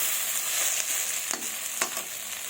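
A ground paste of dried red chilli, ginger and cumin frying in a pan for a fish curry, a bright continuous sizzle close up, with a couple of sharp stirring scrapes and no speech.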